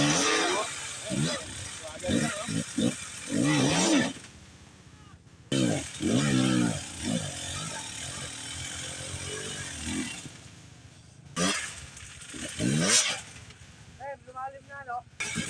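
Trail motorcycle engine revving in short bursts on a dirt trail, rising and falling between spells of idle, with people talking over and around it throughout.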